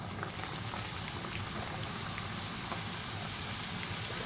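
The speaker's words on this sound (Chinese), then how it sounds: "油温达到六成热时放入蛋卷，" Egg rolls deep-fry in hot oil at medium heat, giving a dense, steady crackling hiss that fills the whole stretch without pause or voices.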